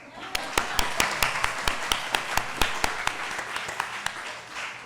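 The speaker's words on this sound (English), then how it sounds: "Let's give a round of applause for everyone who lost." Small audience at a Festivus gathering claps, distinct individual claps in a fairly even rhythm, roughly four per second, standing out over a light background patter of other hands.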